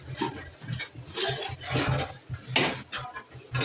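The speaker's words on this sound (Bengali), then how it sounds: "নাড়াচাড়া করে দিচ্ছি আগে মাছ নাড়াচাড়া করে দিচ্ছি" A spoon scrapes and clinks in a cooking pot as beef tehari is stirred, the rough stirring strokes close and fairly loud with a faint sizzle beneath.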